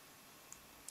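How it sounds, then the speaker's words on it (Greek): An iPhone home button is pressed three times in quick succession, one faint click followed by a tight pair of sharp ticks, alone in a quiet room. "Κάνουμε τριπλό κλικ στο home"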